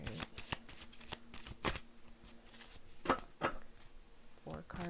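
A deck of tarot cards is shuffled up close in a series of quick riffling bursts and soft taps, fairly quiet.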